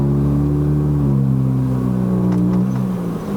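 A remapped 2009 Honda City GM2 1.5E pulls away under full throttle on a Malaysian road, its engine note rising steadily and loudly inside the cabin as revs climb, with no talk.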